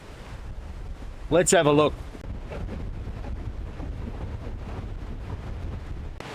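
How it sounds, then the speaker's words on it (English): Steady wind buffets the microphone at the Mitta Valley free campground near Dartmouth Dam, a constant low rumble and rush that runs throughout, with a brief spoken phrase near the start. "But it's windy. Not cold, but windy."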